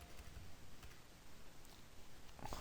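Quick, faint clicks of keys being typed on a computer keyboard, close and steady with small gaps, and no voices.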